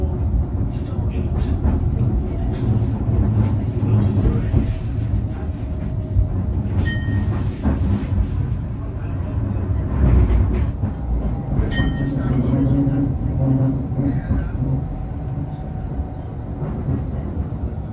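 A Blackpool seafront tram rolls steadily along its rails with a constant rumble and clatter from inside the car. A few faint tones and announcements sit over the continuous running noise.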